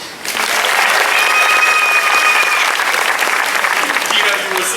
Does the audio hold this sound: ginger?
no